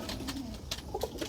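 Pigeons cooing inside a pigeon-and-quail farm coop in Bangladesh, several soft low coos and murmurs overlapping at close range, fairly quiet with no voices.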